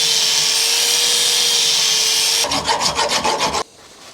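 A hand file rasps across the freshly cut end of a steel M16 x 1.5 bolt in about seven quick, close strokes, coming after a steady background hum.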